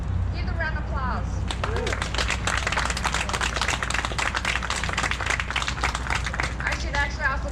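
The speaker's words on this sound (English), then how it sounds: "Give them a round of applause" A crowd at a city event in San Bernardino applauds public works, community development and fire department staff, sustained dense clapping with scattered voices and cheers mixed in, rising and holding for several seconds.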